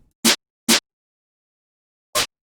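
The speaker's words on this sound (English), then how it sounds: "So I added the second layer to the snare." Layered snare drum with a ring-modulated sample added on top, three sharp isolated hits, two close together and a third after a pause, each a short bright crack with silence between.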